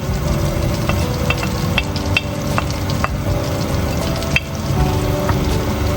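Shallot and garlic cooking in melted butter, a continuous close sizzle with frequent small scrapes and taps of a utensil stirring the pan.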